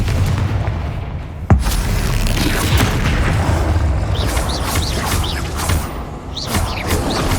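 A Confringo fire spell explodes in Hogwarts Legacy during a fight with dark wizards. A single sharp boom cuts through a loud, continuous rumbling din of battle effects.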